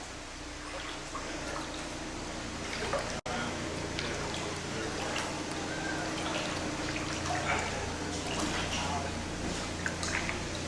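Flood water drips and trickles steadily through a flooded high school, a constant wet, splashy background beneath people talking nervously, with one brief dropout partway through.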